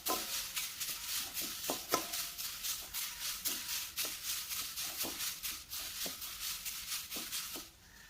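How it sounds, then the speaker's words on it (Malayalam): Steady crackling sizzle of curry leaves roasting in a pan until blackened, with repeated light scraping and stirring strokes throughout, tapering off at the end. "ഇതൊരു നല്ലൊരു ബ്ലാക്ക് കളർ ആകുന്നത് വരെ നമുക്കിതൊന്ന് വറുത്തെടുക്കാം"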